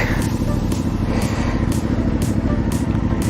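A CFMOTO 450 off-road motorcycle engine putters steadily at low revs on half clutch, close up, with a rhythmic pulsing and some clattering as it crawls along slowly at walking pace.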